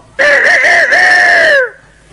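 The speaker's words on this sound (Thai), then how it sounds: "นี่ไก่ขัน" A rooster crows once in a Thai shadow puppet show, a loud, close, sustained cock-a-doodle-doo with wavering pitch that lasts about a second and a half and then cuts off into near silence.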